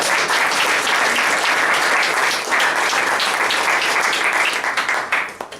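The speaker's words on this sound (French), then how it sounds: "qu'on les applaudisse." A conference audience gives sustained applause, a dense even roar of many hands clapping that stays loud throughout and then tapers off at the end.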